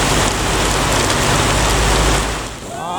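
Heavy rain pours down in a dense, continuous hiss that holds steady and then briefly eases near the end.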